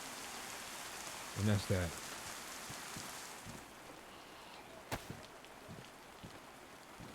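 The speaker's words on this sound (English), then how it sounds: "It's been raining" Rain falling in the survival video game DayZ, a steady soft hiss of drops under a brief spoken comment and a couple of louder thumps.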